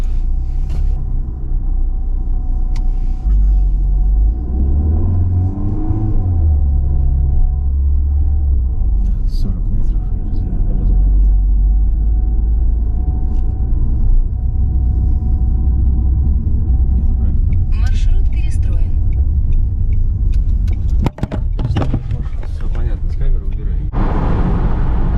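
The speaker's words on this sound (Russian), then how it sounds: "Мы едем по платной трассе, я рулю, трасса широкая" A car driving along a wide four-lane toll highway in Turkey near Istanbul, with a steady low engine and road rumble running throughout and people talking over it.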